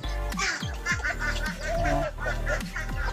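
Ducks quacking repeatedly, close by, with bursts of honking calls in an irregular rhythm; chickens are not clearly distinct among them.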